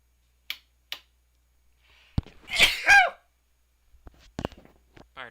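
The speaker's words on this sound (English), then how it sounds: "I'm going to sneeze, though." A single sharp sneeze bursts out in a quiet room, preceded by a couple of small clicks and followed by soft rustling.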